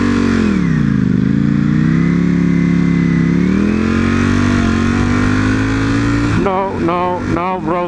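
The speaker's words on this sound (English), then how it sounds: "We're gonna wait for these cars to go." A car drones steadily nearby with its engine note rising and falling as traffic goes by, followed near the end by a sharp burst of revving.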